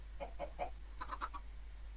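Chickens in the video game Minecraft cluck in two quick clusters of short, chirpy calls, about seven in all, heard alone and up close over a quiet background.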